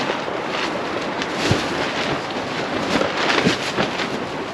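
Strong night wind buffets a campsite at Garnet Hill, Nevada, a loud, steady roar with rumbling gusts and low thumps swelling and easing throughout, with no talk.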